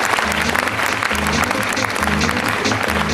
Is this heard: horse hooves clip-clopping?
no